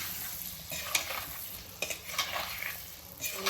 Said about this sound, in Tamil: தூள் உப்பு கொஞ்சம் போட்டுக்குவோம் போட்டுட்டு நல்லா கிண்டிக்கலாம்